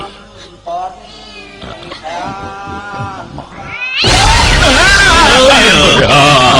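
Several cat meows, then a loud, continuous burst of yowling and caterwauling that fills the second half.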